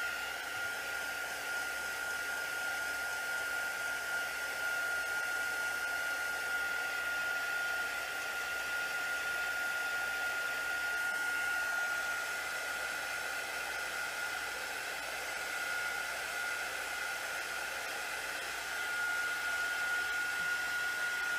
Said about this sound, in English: let's go ahead and hit this with the heat gun